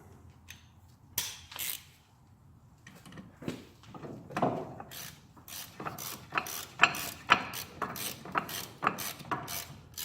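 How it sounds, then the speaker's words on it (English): A regular hand ratchet works a ball joint bolt on a 1999 Ford Explorer 5.0, giving quiet scattered clicks at first, then a steady run of sharp ratcheting clicks that grows louder and more regular. "Let's use a regular ratchet first."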